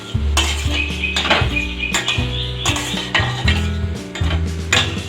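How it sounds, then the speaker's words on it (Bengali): Spicy egg pasta being stirred in a pan, with repeated clinks and scrapes of a utensil against the metal in a steady, close rhythm, set against a continuous low hum and with no talking. "এখন আমি একটু নেড়ে দিচ্ছি।"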